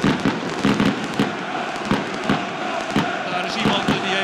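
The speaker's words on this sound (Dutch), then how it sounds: "het vuurwerk dat u nu hoort, dat wordt buiten het stadion afgestoken" Fireworks set off outside the stadium during a Frisian derby between SC Cambuur and sc Heerenveen crackle as sharp, repeated pops. They ring over a constant roaring crowd, and a commentator talks throughout.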